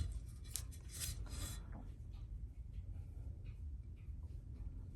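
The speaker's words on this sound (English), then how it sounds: "let the hand sanding begin" Hand sanding a wooden knife handle on an old Craftsman knife, a faint, close, rhythmic rasping of abrasive strokes, busier at first and then softer and more scattered.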